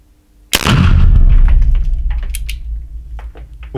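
A Gomm Cogne GC 54 defence gun fires rubber buckshot, likely from both barrels: a loud, sharp near blast that decays into a long ringing tail with faint mechanical clicks afterward, no talk.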